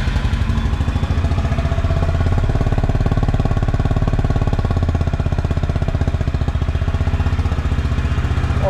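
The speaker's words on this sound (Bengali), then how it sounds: "গাড়িটা একবার স্টার্ট দিয়ে আপনাদেরকে শুনিয়ে দেবো।" A Honda H'ness CB350 motorcycle engine idles close by, with a loud, steady, rapid thumping beat that holds evenly from start to finish, with no other sounds.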